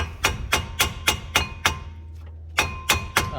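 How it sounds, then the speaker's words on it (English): A 2-pound hammer taps the metal brake rotor of a Nissan Altima in a steady series of sharp, ringing strikes, with a brief pause before a few more hits. "what you can do is you can kind of give it a little light taps."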